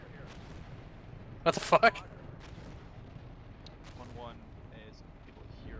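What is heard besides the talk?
artillery strikes in Steel Beasts video game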